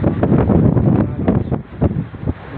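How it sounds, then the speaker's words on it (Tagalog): Strong gusting wind ahead of approaching Typhoon Crising on high ground at Balipit, buffeting the microphone in loud uneven blasts and rumbles that surge and ease throughout, with no talking. "Grabe hangin, lakas."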